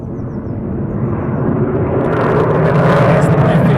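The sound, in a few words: F-15 military jet coming in to land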